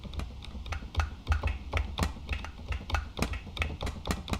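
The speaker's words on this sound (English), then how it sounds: "So that should be a little caixa." Caixita rítmica, a small caixa drum from the Andea sample library, plays a quick steady rhythm of crisp, light strokes over a low rumbling bed, close and with no voices.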